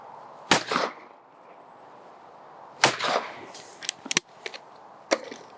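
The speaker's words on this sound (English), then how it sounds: "So I'm just going to shoot a basic driven pheasant." A side-by-side shotgun fires at a driven pheasant clay, giving sharp, loud reports at roughly 0.5, 2.8 and 5.1 seconds. Smaller clicks and knocks come between them, and no one speaks.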